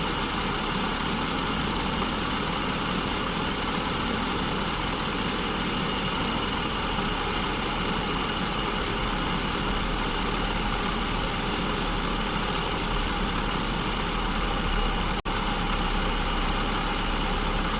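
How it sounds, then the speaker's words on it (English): A car engine idles steadily with an overly rich fuel mixture, a continuous even rumble with a faint higher whine, close by and unchanging, with one brief click near the end. "the engine sounds really strong"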